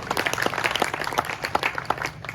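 Audience applause at a Hindi poetry gathering, a kavi sammelan, comes as a short burst of many hands clapping in an irregular patter, moderately distant and fairly even.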